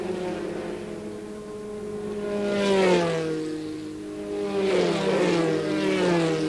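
Formula 3 racing cars with ground-effect skirts at Silverstone in 1984 roar past on track, engine notes rising and falling in waves as cars pass one after another, loud and continuous.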